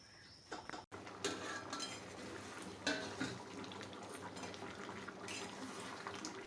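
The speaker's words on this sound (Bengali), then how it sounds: "তারপর আমি ঢাকনাটা খুলে নিচ্ছি" A cooking pot lid comes off a simmering pot of kochu and gugli (taro and snail) curry, a sharp metallic clank followed by soft clinks of metal and a faint liquid bubbling in a quiet kitchen.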